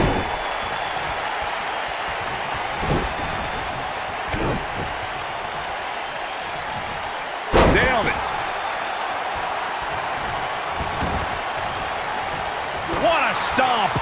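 Heavy wrestling slam impacts from WWE 2K19, a fall count anywhere match between Braun Strowman and Kevin Nash, land as loud thuds midway and near the end over a steady roaring arena crowd, with commentators talking throughout.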